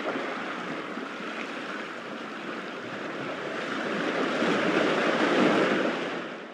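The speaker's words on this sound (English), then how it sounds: "I added a recording of some waves very faintly in the background to add some more variety to" Ocean waves wash in a steady, broad roar that slowly swells toward the end, with no voices.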